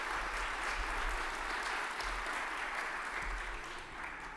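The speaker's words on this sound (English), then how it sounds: "Applause." Audience at a ministerial address breaks into steady, sustained applause that fills the room evenly throughout, with a low hum beneath and no speech over it.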